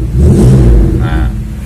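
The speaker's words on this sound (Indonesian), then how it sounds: "Ini knalpotnya cukup menggelegar, cukup ngebas" A 1995 Daihatsu Feroza SE revs loud and close through a booming, bassy exhaust, the engine swelling and easing over a short burst with no talk.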